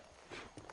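Horse hooves clip-clop faintly in the video game Red Dead Redemption, with two soft, distinct hoof strikes over quiet background ambience.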